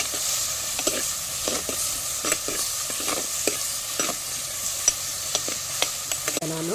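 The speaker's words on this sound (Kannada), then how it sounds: "ಇಲ್ಲಿ ಚಿಕನಿಗೆ ಈಗ ನೀರುಳ್ಳಿ ಟೊಮೆಟೊವನ್ನೆಲ್ಲ ಫ್ರೈ ಮಾಡ್ತಾ ಇದ್ದೇನೆ" Onion and tomato fry in a pan for chicken over an outdoor stove, a steady sizzle with frequent sharp scraping clicks from stirring and a brief clatter near the end.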